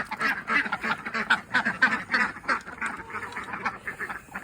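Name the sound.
ducks quacking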